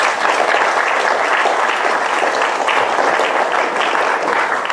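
Dense, sustained applause from a lecture audience after an academic talk, loud and even throughout without a break.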